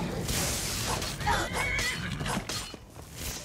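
Horse in Skyrim gameplay: a clear whinny rising and falling over roughly a second, mid-distance, amid soft hoof clops and background game ambience.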